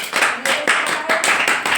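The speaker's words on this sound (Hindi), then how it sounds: "सारे बच्चे ताली बजाओ" Schoolchildren in a classroom clap their hands together in quick, uneven bursts, a dense patter of many small hands that swells and fades several times over a couple of seconds, close and fairly loud.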